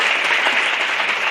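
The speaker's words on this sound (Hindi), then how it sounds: "एक जोरदार तालियां प्रवीण जी के लिए।" Loud, dense audience applause for a guest at a direct selling event in Ghughus, a steady wall of many hands clapping with no gaps.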